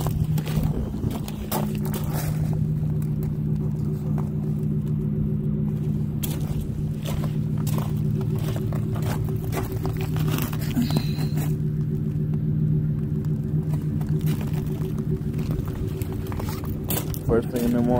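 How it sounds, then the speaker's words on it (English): A truck stuck in mud with its engine rumbling, a loud, steady low drone that holds unbroken for the whole stretch. "Truck got stuck in the mud."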